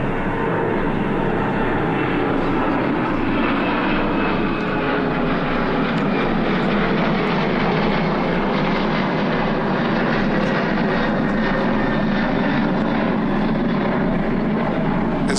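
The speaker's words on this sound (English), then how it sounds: "I hope we'll finish before another plane." A plane passes overhead during an outdoor address in Kenya, its steady loud engine roar filling the full stretch and fully drowning out everything else.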